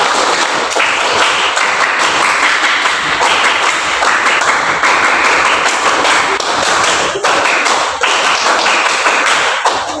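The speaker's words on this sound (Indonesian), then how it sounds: "3 kali tepuk pramuka" Pramuka scout-style group clapping by a class of students, loud, dense and continuous many-handed clapping with a steady driving pulse, filling the whole stretch without talk.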